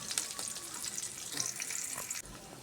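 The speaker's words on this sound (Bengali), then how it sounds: "কিছুক্ষণ পেঁয়াজগুলো ভেজে নেব।" Onions frying in a pan while a Bengali-style hilsa fish and vegetable dish is being cooked, giving a steady close hiss and crackle with faint stirring scrapes, ending in a brief quieter moment near the end.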